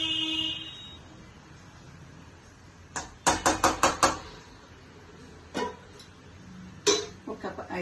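A lid is set onto a pot of simmering mixed vegetable curry, giving a quick cluster of rattling metallic clinks followed by two separate clanks, close by in a quiet kitchen.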